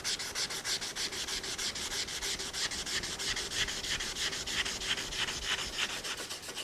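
A Stanley miter vise is sanded by hand with 400 grit sandpaper, giving a close, steady run of rhythmic back-and-forth rasping strokes.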